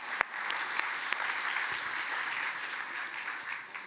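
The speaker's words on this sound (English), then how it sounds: "A round of applause for both our debaters." An economic forum audience in Brussels applauds two debaters after a session on AI, a dense, even patter of clapping with a few sharper individual claps standing out, continuous for several seconds.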